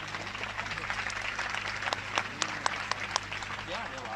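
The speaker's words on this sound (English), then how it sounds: "Give him a big clap, please." An audience at a Sahaja Yoga music program claps in a full, lively burst of applause, with a few sharp louder claps and a low sustained hum beneath. Voices mingle in the crowd.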